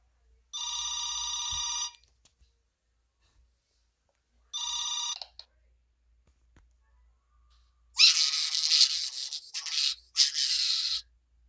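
A telephone rings during a phone call recording: two short electronic ring bursts separated by silence, followed by a harsher, noisier burst of sound lasting a few seconds.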